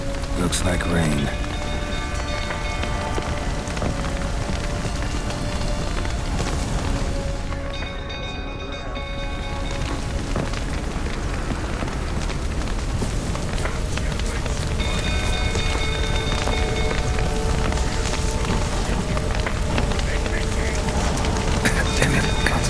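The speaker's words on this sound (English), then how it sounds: "Looks like rain." Steady rain patters and hisses densely throughout a rainy scene in The Witcher 3, with game music tones and effects layered over it and a brief dip in the middle; a voice speaks at times.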